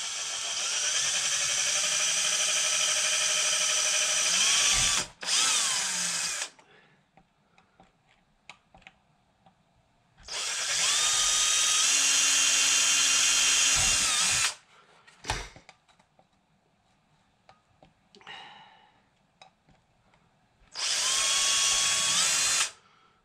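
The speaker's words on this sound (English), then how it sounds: "This is a 1/16th drill." A power drill fitted with a 1/16 inch bit bores small holes in wood for Jaguar MKII trim, three loud sustained whining bursts separated by quiet pauses with light clicks and handling sounds.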